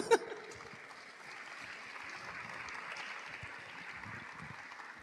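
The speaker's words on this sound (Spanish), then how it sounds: "Fuerte aplauso para Sabas." An audience gives steady applause for a karaoke singer. It is a dense, even patter of many clapping hands, held at moderate volume after a brief sharp sound at the start, with light voices mixed in.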